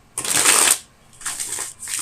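A deck of tarot cards shuffled close up in two bursts of loud, crisp riffling, the first longer, then a brief pause before the second.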